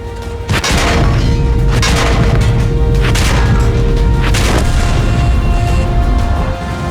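Heavy hit causing great durability loss on a tank in World of Tanks: a loud booming impact followed by repeated crashing, artillery-like blasts and rumbling debris, sustained and dense for several seconds with no talk.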